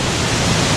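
Roar of water at the base of Gabaldon Falls, a loud, dense, continuous rush filling the whole clip, with no voices.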